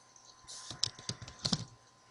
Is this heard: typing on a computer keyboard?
yes